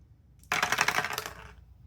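Two dice tumble across a hard surface in a sharp, close clatter of rapid plastic clicks that starts suddenly, rattles for about a second, then dies away to quiet.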